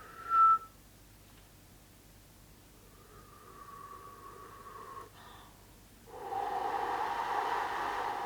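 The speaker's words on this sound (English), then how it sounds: "letting out a soft whistle" A short soft whistle sounds, then a longer, gentle whistled tone follows, before a steady breathy hiss rises near the end.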